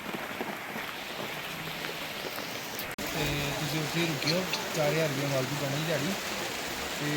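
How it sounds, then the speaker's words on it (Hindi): Heavy rain pours down at Kedarnath in a steady, dense hiss, with a person talking over it partway through. "ये देखो कितनी तेज बारिश हो रही है।"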